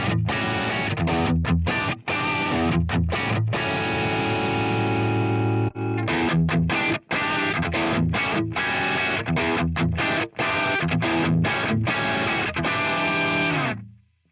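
Heavily distorted electric guitar plays through a vintage Marshall speaker cabinet in a driving riff with chugging chords and short stops, loud, dense and continuous, with no speech.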